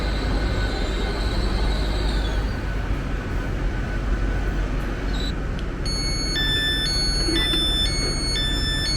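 A train arrives at Leeds station, a loud steady rumble of wheels with brief squeals, and a run of electronic chimes or tones near the end, with no talking.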